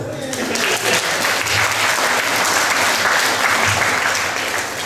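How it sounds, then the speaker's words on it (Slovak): Loud, continuous applause from an audience at a live beauty-pageant contest round, with scattered cheers and voices mixed into the clapping throughout. "veľký potlesk."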